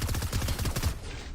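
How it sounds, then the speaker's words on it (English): A rapid-fire SMG in Fortnite Chapter 2 rattles off a fast, even string of shots for about a second, then cuts out abruptly. "This is a prime example of how strong this rapid fire SMG was."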